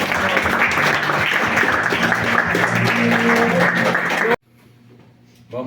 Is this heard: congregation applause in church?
yes